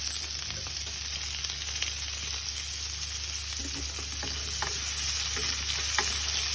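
Onion and garlic frying in a little oil in a pan, a steady close sizzle with occasional stirring scrapes, continuous and fairly loud.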